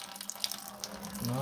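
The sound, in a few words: fluid dripping after loosening Oliver 70 tractor radiator cap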